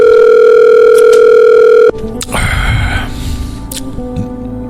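An outgoing phone call: a loud, steady line tone cuts off abruptly, followed by mixed clicks, rustling and faint background noise from the handset.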